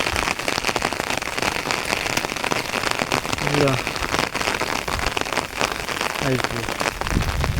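Heavy rain pours steadily onto surfaces near a farm home where water has pooled, a dense continuous hiss with scattered sharper drop impacts throughout.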